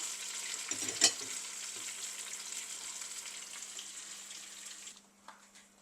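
Chicken pieces fry in hot oil for a coconut milk biryani, giving a soft, steady sizzle with a brief clatter near the start. The sizzle stops abruptly toward the end.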